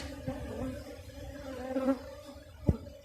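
Honey bees buzz around a strong hive heavy with honey in a brood box, a steady close droning hum throughout with a couple of sharper knocks near the end.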